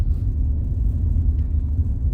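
Steady low rumble of tyres on the road heard from inside a car driving around Las Vegas, a continuous near drone with no talk.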